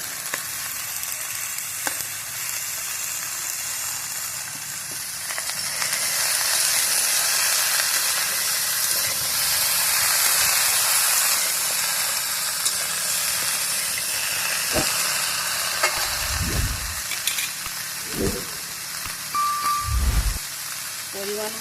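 Shrimp frying in a hot pan, giving a loud, steady sizzle and hiss that swells midway, with a few low knocks and clatters near the end.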